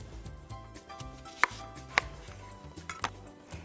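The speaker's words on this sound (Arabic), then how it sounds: "كنبداو بالبصله، غادي نقطعوها" A knife chops an onion against a board, giving a few sharp, isolated clacks spaced irregularly over a steady low background hum, close and with no one talking.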